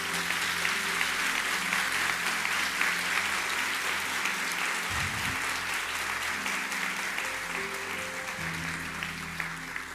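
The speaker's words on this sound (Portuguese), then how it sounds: "Quero que você aplaude a Deus pela fé desse homem aqui." A church congregation applauding during a sermon, steady loud clapping from a large crowd that fills the room for the whole stretch, with faint voices mixed in.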